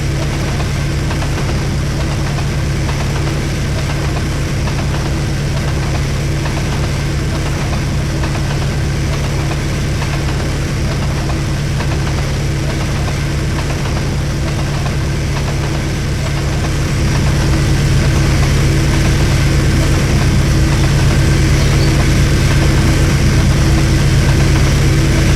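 A diesel locomotive running at about 119 km/h gives a loud, continuous low engine drone with a steady hum. The drone swells slightly louder partway through and carries no speech.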